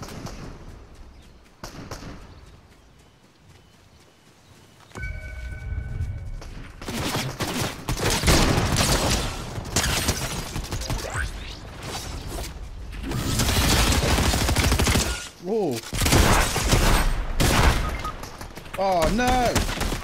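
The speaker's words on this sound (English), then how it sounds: "Who's shooting? Is that someone shooting at you?" Rapid bursts of gunfire in a multiplayer video game, loud and dense, broken by short pauses and mixed with mechanical clatter, with players talking over parts of it.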